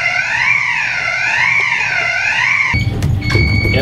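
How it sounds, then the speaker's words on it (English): A ship's general alarm wails on the bridge during a fire training drill, a loud rising-and-falling siren tone that cuts off abruptly, followed by clatter and a steady beep. "General alarm."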